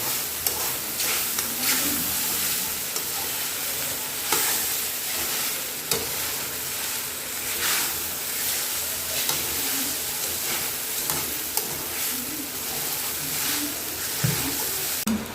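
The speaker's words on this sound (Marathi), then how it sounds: "खिचडी चांगली आता परतून घेऊ" Fasting khichdi with peanuts and potatoes sautés in a pan, giving a constant close sizzle with soft scraping stirs and occasional light clinks throughout.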